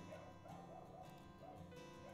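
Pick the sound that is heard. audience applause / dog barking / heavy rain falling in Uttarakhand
dog barking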